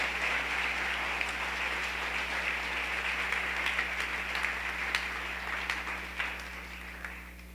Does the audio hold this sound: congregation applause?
yes